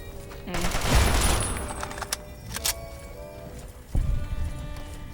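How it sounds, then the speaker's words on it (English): Chinese assault rifle gunfire in the Fallout game (Tale of Two Wastelands mod): a rapid burst of close shots, a few sharp single cracks, then another short burst with mechanical clatter. "This is one of the unique Chinese assault rifles. The Chinese Dragoon assault rifle."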